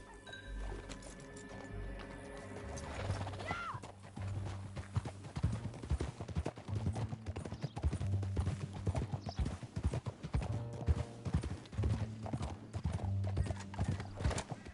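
Galloping horse hooves in Red Dead Redemption 2 pound in a steady, rapid rhythm, close and loud, with a brief whinny near the start and faint clinks underneath.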